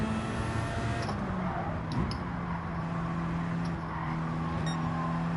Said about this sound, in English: we need to rev it out again now